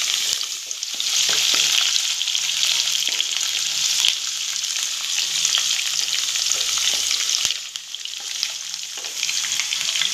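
Garlic and green chillies fry in hot oil in a pan, giving a loud, steady, close sizzle for the whole stretch. A few faint utensil clinks come through, and the sizzle dips briefly near the end.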